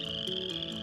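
Frogs croak in a quick, steady chorus of rasping calls, clear and fairly soft, with no voices.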